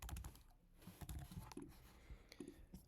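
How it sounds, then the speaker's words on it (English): Typing on a computer keyboard, with quick, irregular key clicks in short bursts, close but quiet, and no talking. "Let me just type that in."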